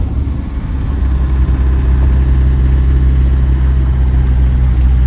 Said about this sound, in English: I'm going to downshift into third gear here.